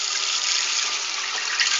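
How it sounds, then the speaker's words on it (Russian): Warm tap water pours steadily into a plastic washing-machine bowl, a continuous bright splashing rush close by with no voices. "Набираем воду"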